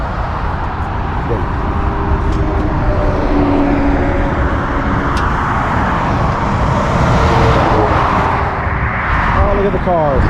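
Cars pass close by on a road right beside a small roadside family cemetery, making a loud, steady roar of tyres and engines that swells and fades as each vehicle goes by.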